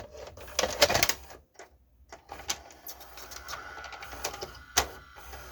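Whirring, clicking mechanical noises with irregular clunks and a faint strained whine, a VCR mechanism grinding on a loaded tape, close and fairly quiet.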